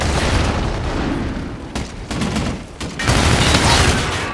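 Shotgun fire in the video game Call of Duty Infinite Warfare, with loud, heavy blasts and several sharp booming bursts in quick succession over continuous battle noise.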